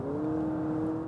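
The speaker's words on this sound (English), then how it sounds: "That fake engine noise." Steady synthetic engine hum piped into the cabin of a 2024 Honda Accord hybrid driving in sport mode, a smooth continuous drone with a clear tonal whine, close and even throughout.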